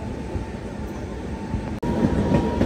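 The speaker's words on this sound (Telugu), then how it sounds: "ఆ పక్క ట్రాక్లో చూడండి ఏదో గూడ్స్ ట్రైన్ అయితే వస్తుంది." A goods train rolls past on the adjacent track beside a moving intercity express near Nellore, a loud, steady rail rumble with a brief drop partway through, then continuing unbroken with no voices.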